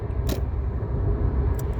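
A car is manoeuvred on a road in the United States, its engine and road rumble a steady, loud drone throughout, with a couple of brief clicking, jangling bursts on top and no talking.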